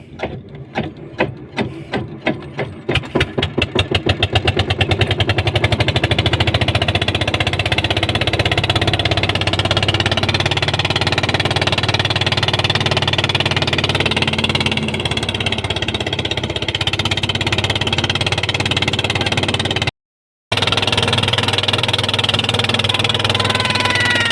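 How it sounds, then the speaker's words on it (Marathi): A small motor boat's engine sputters through a rapid series of starting pulses, then settles into a loud, steady running drone that continues to the end. "आता आपण बारकी मशीनची होडी स्टार्ट करू."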